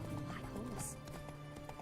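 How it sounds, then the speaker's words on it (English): Roach the horse galloping in The Witcher 3: Wild Hunt video game, with faint rhythmic hoofbeats that sit low under someone talking over the game. "Instead of a car, it's just Roach, the horse"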